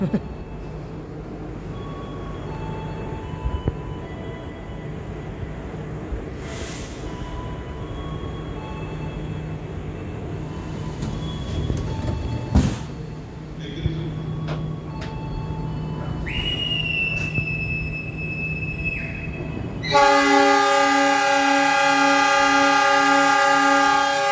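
A passenger train pulls out of Yogyakarta station, with a steady low rumble of rolling wheels and carriage noise, scattered clanks and squeals, and a sustained horn-like tonal blast toward the end.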